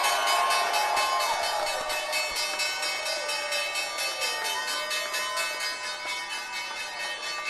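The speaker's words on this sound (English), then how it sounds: "Time now for the closing bell." A stock exchange closing bell rings out on the final trading day of 2025, a sustained metallic tone that holds steady and then slowly fades, with a faint crowd behind it.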